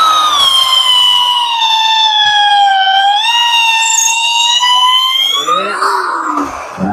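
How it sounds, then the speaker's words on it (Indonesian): A 13 mm J-LD 13-2 hammer drill in drilling mode bores with a 10 mm auger bit at full speed, a loud, steady high whine that wavers slightly in pitch, then falls away near the end. "Auger bit di speed maksimal di mode drilling."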